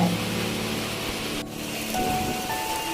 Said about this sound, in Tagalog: maulan na dito sa aming probinsya